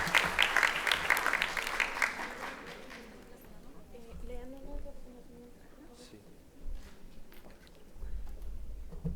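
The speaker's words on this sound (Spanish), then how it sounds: "Un fuerte aplauso, por favor." Audience applause at an award presentation during a panel on transparency and accountability, a dense burst of clapping that fades out within about two seconds, followed by a voice speaking over quiet room noise.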